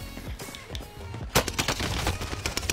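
Rapid video game gunfire at a prison location, a dense run of sharp, loud shots with a brief pause before a heavier burst, close and in the foreground.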